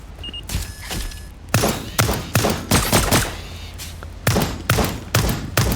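Gunfire in the video game Lost Skies, a run of loud, punchy shots in irregular bursts with short gaps between them, close and prominent, with little or no talking.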